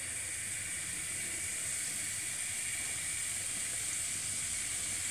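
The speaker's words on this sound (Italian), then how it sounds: "E adesso andiamo a friggere" Dough for Pugliese Christmas cuscinetti frying in hot oil, a steady continuous sizzle and hiss of many fine bubbles, close and even throughout with no talking.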